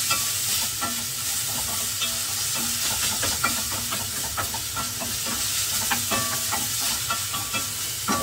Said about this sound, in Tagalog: Pag medyo luto na yung ating bawang, sunod na natin ang ating luya.